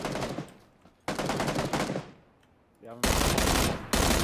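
Loud, rapid bursts of shotgun and pistol fire in PUBG, arriving in dense volleys separated by short lulls, with a brief spoken word among the shots.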